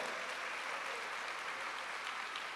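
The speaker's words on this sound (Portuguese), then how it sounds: "Aplaudam o Senhor." A church congregation claps together in continuous, even applause that fills the whole moment at a steady level, with no speech over it.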